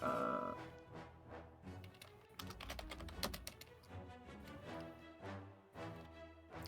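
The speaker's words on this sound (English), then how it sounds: "I need to think about what I'm typing." Fingers type on a computer keyboard in quick irregular bursts of clicking keys, close and fairly loud, with no talking.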